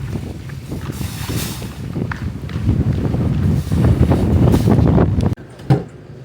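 Strong wind roars steadily against the microphone, a loud rumbling buffet that drops off abruptly near the end.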